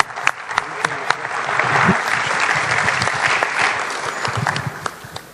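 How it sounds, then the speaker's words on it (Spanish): A hall audience applauds warmly as the president of the Patronato Amigos de Israel is welcomed to speak. The clapping is steady and fairly close for about five seconds, with a few sharper individual claps and faint voices mixed in. "y lo recibimos con un fuerte aplauso."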